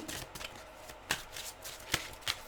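Tarot cards are shuffled close up during a weekly reading, with soft riffling and sliding and several sharper slaps as cards are tapped and dropped into the deck. No one speaks.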